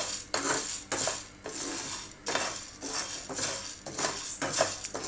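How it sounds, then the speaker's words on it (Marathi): Dry sabudana, or sago pearls, is roasted in a pan while a spoon stirs it, producing bursts of close rattling scrapes and metallic clinks in an irregular rhythm with brief quieter gaps between strokes. "हा साबुदाणा आपण चांगला भाजून घेणार आहोत."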